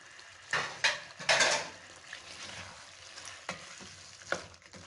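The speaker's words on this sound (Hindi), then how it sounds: "अब हमने जो ये सब्जियां काट के रखी थी अब इसमें हम डालेंगे।" Chopped vegetables and green chilies for chicken jalfrezi go into a hot pan, sizzling softly while a utensil scrapes and clinks against the metal in several sharp, close bursts.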